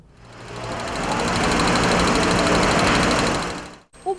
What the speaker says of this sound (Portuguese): O barulho do motor já indica que algo está errado.